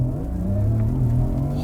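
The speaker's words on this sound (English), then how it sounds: "2025 Porsche Macan. Turbo with launch control." A 2025 Porsche Macan Turbo launches hard with launch control, a loud, close powertrain whine climbing steadily in pitch as it accelerates, with no talk.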